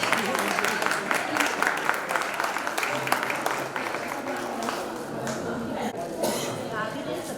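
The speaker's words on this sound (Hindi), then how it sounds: "सभी तालियां बजाएं।" Applause from a gathering at a Shrimad Bhagwat katha festival in Haridwar, a sustained crowd clapping mixed with voices and murmuring, fairly distant and soft.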